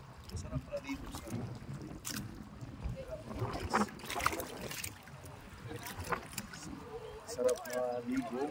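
A pump boat motors across the clear water at Sipaway, a steady churning engine drone with water splashing along the hull, and people talking over it throughout.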